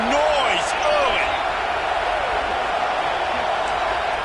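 Stadium crowd roar in College Football 26, a dense, steady wall of cheering that stays loud throughout, with faint whistles and calls rising out of the din.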